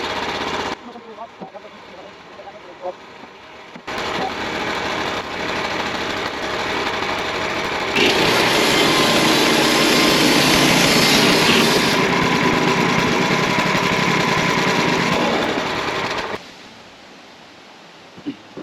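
A bandsaw mill edging cedar boards into 4-inch beams gives a steady mechanical roar with engine drone that swells louder through the middle cut, then drops back to a quieter idle near the end.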